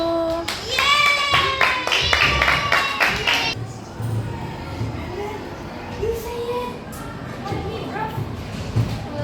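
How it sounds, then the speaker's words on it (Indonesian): Classroom applause for a student group, a burst of hand clapping from children in the first few seconds, then fading into lively room chatter and voices. "kita beri tepuk tangan untuk kelompok 1"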